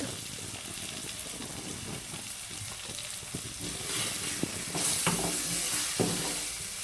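Ground spices (turmeric, cumin, coriander) sizzling in oil in a pan while being stirred, in a dhaba-style Bengali tarka; steady frying hiss with scraping stir strokes that grow louder toward the end, no talk.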